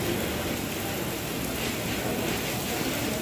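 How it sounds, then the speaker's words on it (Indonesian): Heavy rain pours at a railway station in Bandung, a dense, constant hiss with no breaks, close and loud, with no voices. "hujan cukup deras"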